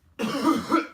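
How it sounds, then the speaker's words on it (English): Harsh coughing right after snorting a white powder, a burst of rough, throaty coughs and throat clearing that starts abruptly and carries on close and loud for under a second. "Those coughs are only half fake."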